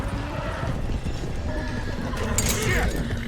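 A horse neighs and whinnies over steady clip-clop hooves in Red Dead Redemption 2, with a stallion breaking loose from a herd being driven to Clemens Cove; the whinny rises loud near the end amid continuous hoof noise.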